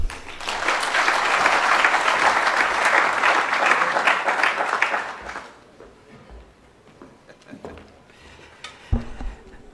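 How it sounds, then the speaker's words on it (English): A hall audience at a university commemoration in Nairobi applauds loudly after a speech for about five seconds, then the clapping fades to scattered claps, shuffling and small clatters. "Another round of applause for Professor Franceschi."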